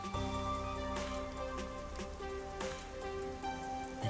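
Steady rain falls over a neon-lit city district in the video game Rain Code, a dense continuous patter with scattered drip-like taps and a faint tonal background hum.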